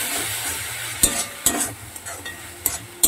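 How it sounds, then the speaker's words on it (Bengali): Salted food fries in a pan with a steady close sizzle, broken by several sharp scrapes and knocks of a stirring spoon against the pan. "লবণ দিয়ে দিলাম, দিয়ে আমি অবশ্য ভেজে নেব মিনিটখানে"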